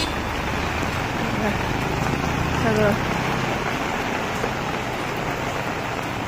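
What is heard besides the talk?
heavy rain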